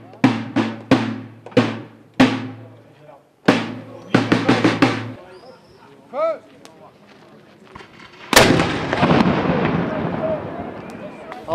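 A Gribeauval 4-pounder cannon and other black-powder fire at a Napoleonic reenactment battle along the Dordogne give a series of sharp booming reports with decaying echoes, then a larger blast near the end.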